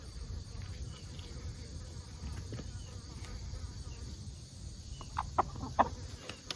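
Backyard chickens cluck softly in a bed of insect and cricket chirring, with a few sharper, louder clucks near the end; no one speaks.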